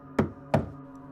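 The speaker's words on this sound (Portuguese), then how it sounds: "Estão batendo na porta de novo." Two sharp knocks on a house door at night, about a third of a second apart, sound close and distinct against a quiet background.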